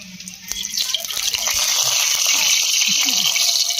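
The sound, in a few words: cooking oil poured into a hot wok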